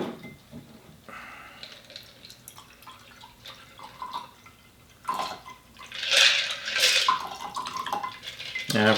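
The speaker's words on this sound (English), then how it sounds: "Look at this strained into the glass." A St Patrick's Day cocktail is strained into a glass, bringing trickling, dripping liquid and clinks of glass and metal that swell louder toward the end, close by and with no talk.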